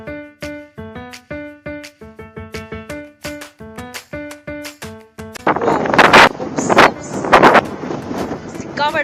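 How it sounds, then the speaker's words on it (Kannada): Strong wind on the beach at Kanyakumari buffets the microphone in loud, rough gusts during the second half, following a stretch of rhythmic tonal sounds. "ಸಿಕ್ಕಾಪಟ್ಟೆ ಗಾಳಿ ಇದೆ."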